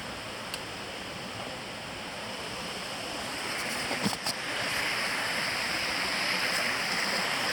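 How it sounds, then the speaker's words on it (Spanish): Water flows steadily past old water mills on a misty morning in O Porriño, Galicia, a constant soft rush from a short distance away with a faint click partway through. "Molinos de agua."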